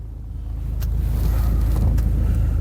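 A Mercedes SLK 230 on the road after a K40 relay repair: a steady, close interior engine and road rumble holds throughout, with a few faint ticks and wind noise on top.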